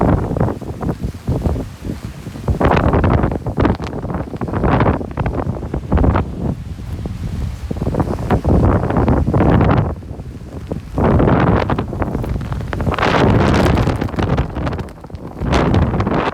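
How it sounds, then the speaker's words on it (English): Strong gusty wind outdoors near a church on the Barbados coast, roaring in heavy buffets across the microphone in long surges and lulls, loud and close, with no speech. "The wind blowing contrary too."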